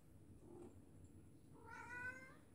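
A single soft meow rises near the end, fairly close and short, over a quiet room with low background hum.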